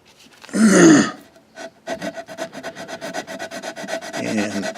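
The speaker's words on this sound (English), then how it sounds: "I'm just going to sand it. This is a sanding belt," Wood being hand-sanded with a 60 grit sanding belt, a rough rasping rub followed by a run of quick, close back-and-forth strokes with a gritty scratch, near and fairly loud.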